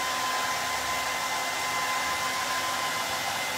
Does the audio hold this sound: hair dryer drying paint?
yes